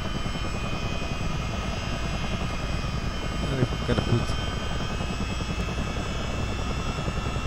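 Two engines of a CH-47D Chinook helicopter run in a motion simulator, a steady, loud turbine whine and rotor drone that stays constant throughout, with someone talking over it.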